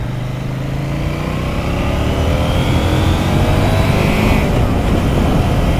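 CFMoto 800NK Advanced motorcycle from 2024 accelerating during a ride: a loud, steady engine roar whose tone climbs smoothly as it pulls, with wind rush throughout and no talking.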